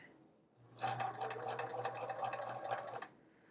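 A sewing machine stitches fabric for a quilt block in one steady run of about two seconds, a close, even whirring with rapid needle clatter, with quiet room tone before and after.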